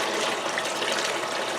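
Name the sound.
water stream flowing over gold sluice table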